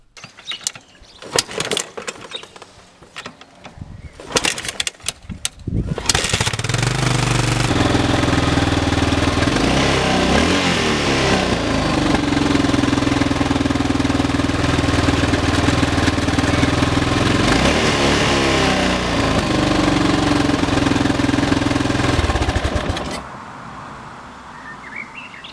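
Yamaha XT600 motorcycle engine cranking with mechanical clatter, then catching and running in a loud, close, steady thumping idle with slight rev swells for about seventeen seconds before shutting off.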